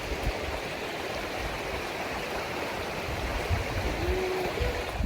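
Creek water flowing steadily through Ozarks woods, a constant close rushing babble with a brief faint tonal squeak near the end.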